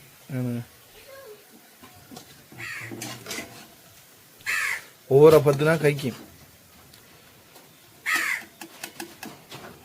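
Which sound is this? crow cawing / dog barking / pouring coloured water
crow cawing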